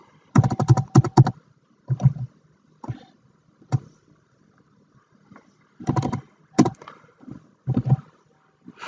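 Typing on a computer keyboard comes in irregular bursts of quick, close clicks and key taps, broken by short pauses.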